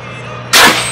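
An air-powered apple cannon at a fall farm outing fires once, a sudden loud pneumatic whoosh that bursts after a quiet hum and trails off within half a second.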